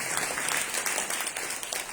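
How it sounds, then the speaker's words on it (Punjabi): A church congregation claps loudly and continuously in a dense burst of applause during a Sunday service. "ਤਾਲੀਆਂ ਵਜਾਓ"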